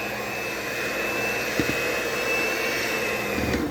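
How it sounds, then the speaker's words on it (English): An electric mixer runs steadily on its lowest setting, beating eggs one at a time into cheesecake batter, a continuous close whir with a faint high whine and a couple of brief knocks against the bowl. "The mixer is on its lowest setting, by the way."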